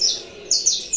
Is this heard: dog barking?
no